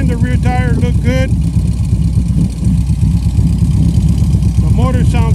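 A 2015 Harley Davidson Road King Police Edition motorcycle engine runs with a steady, loud, low rumble throughout. A person talks over the engine at the start and end.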